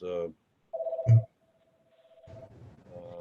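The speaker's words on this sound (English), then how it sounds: "Excuse the phone ringing." A telephone rings in a county fiscal court meeting room, a steady electronic tone held for about a second and a half, with voices speaking before and after it.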